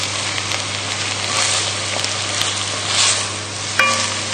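Beef browns in a pan with a steady close sizzle and crackle, stirred now and then, over a low constant hum.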